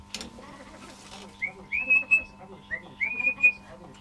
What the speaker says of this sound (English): Would you like to play a song now on your own whistle?